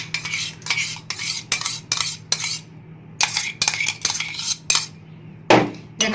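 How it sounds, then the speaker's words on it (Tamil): A spoon scrapes and clinks against a bowl in a quick, irregular series of bursts with short pauses, mixing cauliflower florets with garlic paste and spices, close and with no voices. "நல்லா மிக்ஸ் பண்ணி மிக்ஸ் பண்ணுங்க"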